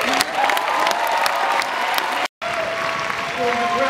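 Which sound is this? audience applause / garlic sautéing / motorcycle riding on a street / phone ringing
audience applause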